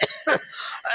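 At an Islamic religious sermon in Aceh, a man close by gives two or three short, harsh coughs in quick succession, with a throaty rasp trailing after them.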